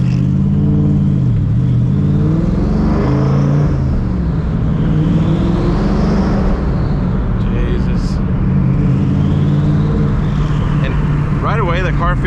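Ford SVT Cobra engine running through a newly fitted exhaust with cutouts open, a loud, continuous low rumble that swells and eases as the revs rise and fall while driving.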